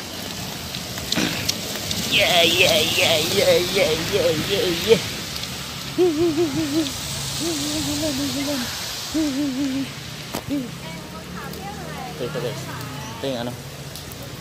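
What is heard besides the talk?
rain falling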